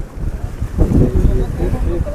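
Sea waves and gusting wind at Haji Ali dargah on the Mumbai shore, a rough low surge that swells near the middle with wind buffeting the microphone, voices faintly mixed in.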